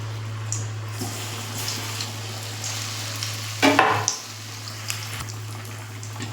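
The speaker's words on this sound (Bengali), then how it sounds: "তেলটা গরম হয়ে গেছে, এবার আমি দিয়ে দেবো একটা করে" Gram-flour-coated coconut chops deep-frying in hot oil, a steady close sizzle with a loud bubbling burst midway as a piece drops in, plus occasional clicks of utensils over a constant low hum.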